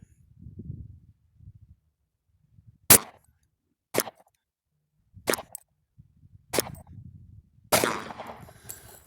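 Five sharp pistol shots from a custom Glock 23, loud and close, spaced about a second or more apart, with low murmuring voice and handling noise between them.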